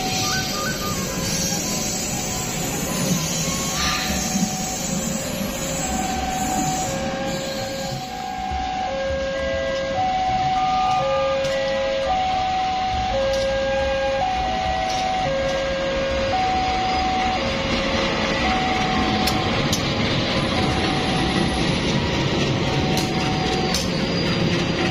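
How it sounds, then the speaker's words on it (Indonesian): KA Lokal Baraya local passenger train on the Cicalengka–Purwakarta line, a constant loud rumbling rail noise with steady repeating electronic tones and chimes layered over it throughout. "Oke teman-teman, ini dia kereta api"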